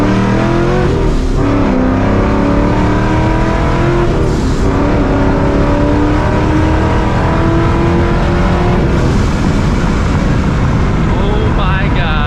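Supercharged New Edge Mustang GT with long tube headers pulling hard through the gears, loud in-cabin engine roar rising in pitch with supercharger whine, brief shift breaks, voices faintly underneath.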